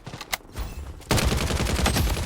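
Gunfire in the shooter game Blood Strike, a quiet scattered shot or two followed by a dense, loud burst of rapid automatic fire.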